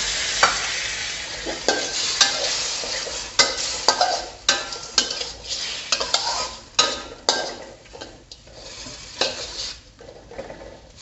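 Shrimp stir-fry with shrimp paste sizzling in a pan as plain water is poured in, with repeated sharp utensil scrapes and clinks of stirring over a steady frying hiss; no talking.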